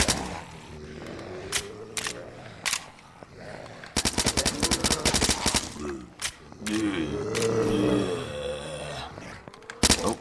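Gunfire in the zombie shooter Blood Waves, with loud bursts of rapid automatic fire and single shots cracking at close range, mixed with zombie grunts and game noise and no talk.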